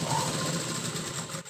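Sewing machine running steadily as it stitches a folded blouse collar onto canvas, a close, continuous mechanical whir that cuts off abruptly at the end.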